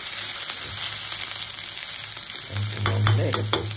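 Ripe chili, tomato and onion sizzle steadily in a hot pan, with occasional stirring scrapes and small pops over the continuous frying hiss.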